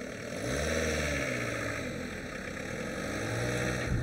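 A 1-litre diesel car cruising smoothly at motorway speed, giving a steady, continuous engine and road drone with a low tonal hum that holds evenly from start to finish.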